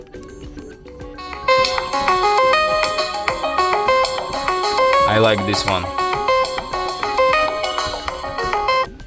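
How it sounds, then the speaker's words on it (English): A series of bright electronic pre-installed ringtones on an OPPO F21 Pro phone play one after another, melodic chiming tones, with a voice speaking briefly partway through. "Wow, nice ringtones."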